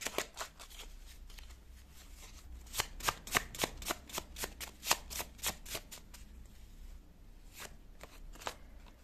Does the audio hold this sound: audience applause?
no